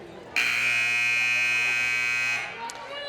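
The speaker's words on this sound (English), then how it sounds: "You'll hear the buzzer sound." A loud, steady electronic basketball game buzzer blares for about two seconds at a girls' high school game, then cuts off, with faint crowd noise around it.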